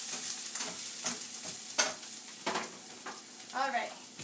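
Garlic and ginger paste being stirred into onions frying in a pan for chicken korma: a soft sizzle runs steadily under repeated scraping strokes of the spoon.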